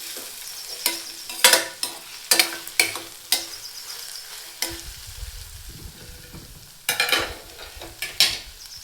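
A spoon stirs ridge gourd palya in a pan, a series of sharp close scrapes and clacks in irregular bursts over a soft frying sizzle, no voices.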